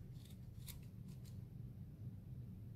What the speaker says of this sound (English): use my scissors to cut all those loops